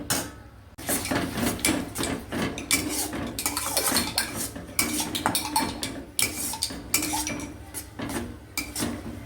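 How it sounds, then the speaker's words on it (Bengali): A spoon beats sour yogurt in a metal bowl, giving rapid, close, continuous clinks and scrapes in an uneven rhythm, with no talking. "নাড়িয়ে নিচ্ছি টক দইটাকে ফ্যাটানো টক দই"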